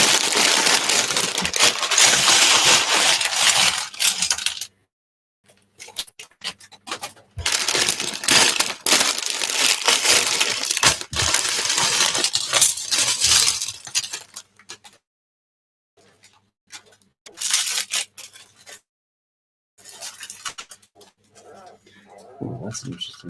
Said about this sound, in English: So let's do some bag noise here.